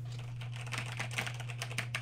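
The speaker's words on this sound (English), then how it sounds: "we have a keyboard here. And so it is still kind of clicky." Typing on a Razer BlackWidow Stealth mechanical keyboard, a quick irregular run of clicky keystrokes close by over a steady low electrical hum, with no voices.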